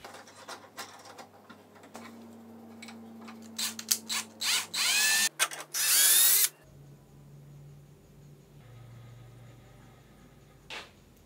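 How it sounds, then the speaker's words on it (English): A power drill bores into and taps a thread in a 737 MCP encoder part, close whirring bursts of rising and falling pitch with short pauses between, followed by quieter mechanical hum. "All I need to do now is cut the returning thread, the female thread, in the encoder"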